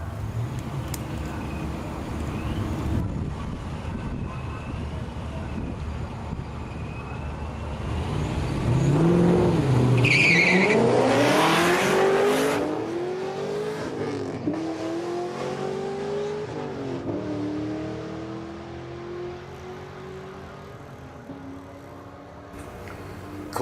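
Drag racing cars accelerate down the strip at a test and tune day, a distant rumble swelling into a loud roaring pass that sweeps upward in pitch, then fades into lingering engine drone.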